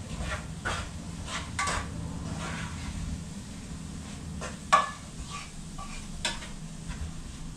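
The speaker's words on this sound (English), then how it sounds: "let's stir this up a bit again." Vegetables are stirred in a pot during winter home cooking, with soft scraping and a few sharp utensil knocks against the pot over a quiet, low sizzle.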